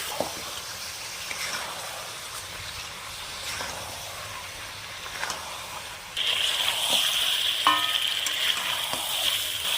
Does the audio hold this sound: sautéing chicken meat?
yes